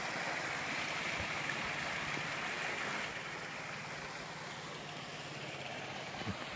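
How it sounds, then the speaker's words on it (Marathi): A small stream of water flows beside farm fields on a hill road, a faint, steady rushing murmur with no voices. "छान झरा वाहतोय."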